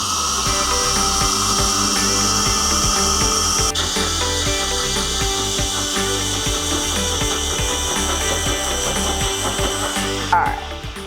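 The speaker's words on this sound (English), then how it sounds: "And we're just gonna hit puree." A Ninja blender purees a lemony olive oil salad dressing with a steady, loud whirring drone that shifts pitch partway through and stops abruptly near the end.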